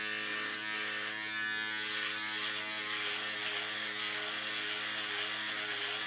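A cheap electric shaver from Amazon hums and rasps continuously up close as it cuts through facial hair, steady and alone without talk.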